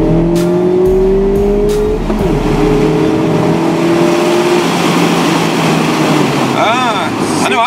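A 2017 Mazda MX-5 RF accelerates hard on a test drive, its engine note climbing through the gears with clear shifts, recorded from inside the car over road and wind noise.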